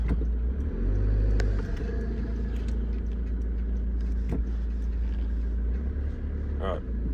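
A 4WD vehicle climbs a hill in two-wheel drive, its engine rumbling steadily up close with a low drone and a brief surge partway through, under faint background noise.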